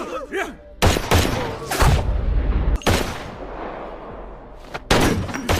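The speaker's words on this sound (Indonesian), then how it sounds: "tiba-tiba ada salah satu pengkhianat dari anak buah si rival yang langsung menembak Lee dan juga si rival bisnisnya itu" Gunshots in a mafia film shootout where a traitor opens fire, heard as several loud, close blasts with sharp starts and rumbling tails spaced across the clip.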